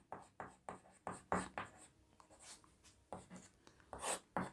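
A pen scratches across paper while a math solution is written out, with a quick series of short strokes, close and quiet, and a brief pause midway.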